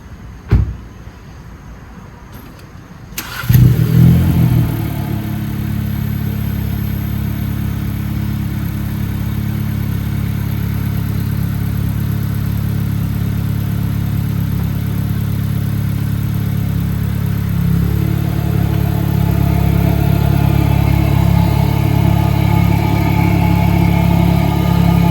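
A VW Jetta Mk6 1.4T fitted with a Unitronic cold air intake cranks and catches after a few seconds of quiet, settling into a steady idle whose pitch and loudness climb slightly later on.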